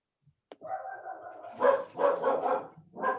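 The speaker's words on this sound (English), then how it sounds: "You may hear my dogs. They may decide to join us today." Several dogs barking in a basement, a run of loud, close barks in quick bursts after a brief yelp, with no talk over them.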